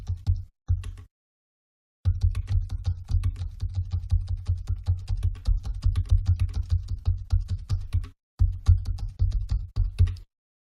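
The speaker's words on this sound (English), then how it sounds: "you just hear the noise made by the Braille keyboard on the old model of Focus" Rapid clattering keystrokes on the braille keyboard of an older Focus Blue 40 braille display, close and dry, in bursts with brief pauses between runs of typing.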